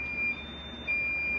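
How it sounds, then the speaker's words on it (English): A handheld RadEye radiation detector sounds its alarm: two short, high electronic beeps separated by a brief pause, close and clear against a quiet room. "if I press that button one time, stops the alarm"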